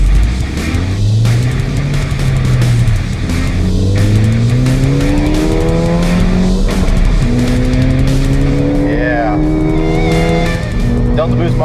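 Turbocharged 2015-2017 Ford EcoBoost 1.6L car with a Flowmaster Delta Boost performance tuner in max mode, engine revving and climbing through gears with repeated rising pitch sweeps, loud and steady from inside the cabin.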